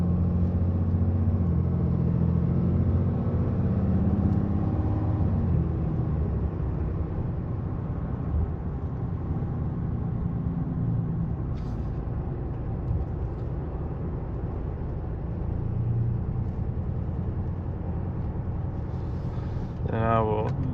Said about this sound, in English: here's just me driving normal and getting on about quarter throttle